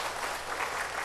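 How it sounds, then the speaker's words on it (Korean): Congregation clapping at a Sunday worship service in a Methodist church, a steady, dense wash of applause filling the short moment at an even level. "이종인 권사님도 격려 한번 박수."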